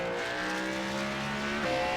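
A race car in the iRacing video game rolls out onto pit road at Indianapolis, its engine holding a steady buzzing tone before shifting pitch near the end, loud and close with no talk.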